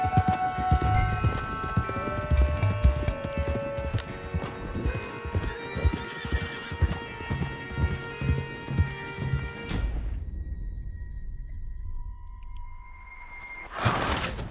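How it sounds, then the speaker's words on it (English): Hoofbeats and whinnying from horses in a western-themed video game: rhythmic clip-clop with loud neighs over music, fading out near the end before a brief burst of sound. "Calma, cavalo."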